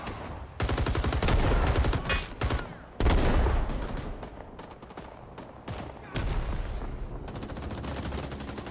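Heavy automatic gunfire from the Vietnam War shooter Rising Storm: Vietnam, sustained bursts of rapid shots with brief pauses, loud and close, punctuated by sharper blasts in a dense battle soundscape.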